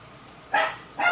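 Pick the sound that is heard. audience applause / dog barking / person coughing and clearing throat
dog barking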